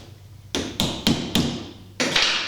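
Five sharp taps on a metal dust cap, a golf cart wheel hub part, as it is seated back onto the hub, four evenly spaced close together then one more after a short pause, near and fairly loud.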